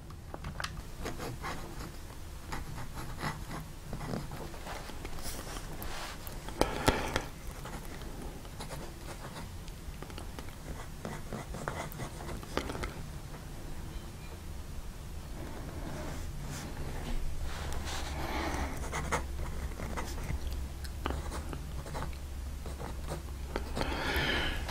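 Byers & Hayes soft, flexible wet-noodle fountain pen from 1915, its nib scratching and swishing steadily across paper in close, faint strokes, with a low background hum and no talking.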